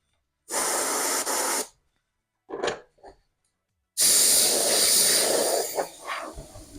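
Aerosol spray paint hissing onto a vintage R/C pan car body in fluorescent color, in light coats: a steady one-second burst, a couple of short puffs, then a longer close, loud spray lasting several seconds.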